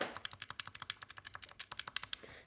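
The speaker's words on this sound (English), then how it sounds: "So these are the A and B buttons." Game Boy Color A and B buttons pressed rapidly, a quick run of about twenty crisp, close plastic clicks in an irregular rhythm over a quiet background.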